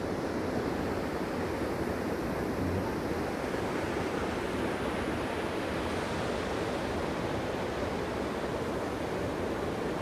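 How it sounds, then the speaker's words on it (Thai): A steady, loud rush of falling water roars continuously without a break, broad and dense, from a nearby waterfall in a rift valley in Iceland. "ฟังเสียงน้ำตกพี่น้อง"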